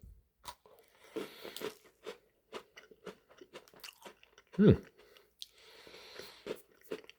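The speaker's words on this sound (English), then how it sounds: "Snappy, crispy cookie." Close, crisp crunches of someone chewing a Maple Creme Oreo cookie, irregular sharp bites and grinding with one loud snap midway, heard alone without talk.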